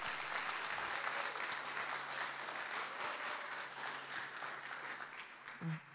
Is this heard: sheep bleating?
no